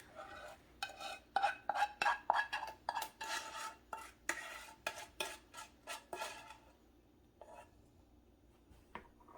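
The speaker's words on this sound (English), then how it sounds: "We are gonna slowly fold. You don't wanna crush your Rice Krispies, so we fold, we fold." Rice Krispies slowly folded by hand into a hot peanut butter, sugar and corn syrup mixture in a pan, a run of soft rhythmic scrapes and rustles that fade to quiet.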